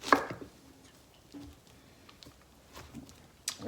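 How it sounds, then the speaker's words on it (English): A knife cuts straight down through the center of a pineapple, giving a firm crunch at the start, then a few soft scraping and squishing sounds, with a sharper cut near the end. "We can now grab our knife and we're just going to cut straight down the center."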